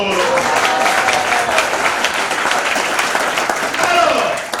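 Congregation clapping and cheering at a church convention in Yamoussoukro, loud dense applause mixed with shouting voices throughout the short stretch.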